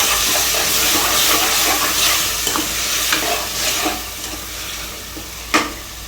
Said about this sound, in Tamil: சிக்கனை போட்டுட்டு நம்ம வதக்கிட்டு போகிறோம்.